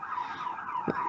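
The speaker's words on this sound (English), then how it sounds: "Here comes an ambulance." An ambulance siren wails steadily at moderate distance, its pitched tone sustained through the whole brief moment with a low thump near the end.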